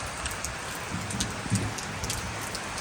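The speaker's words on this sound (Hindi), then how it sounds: "ख़तरनाक बारिश यहाँ से स्टार्ट हो गई है" Heavy rain pours down near Sonamarg, a dense, steady hiss with scattered louder drops and splashes close by, and no voices.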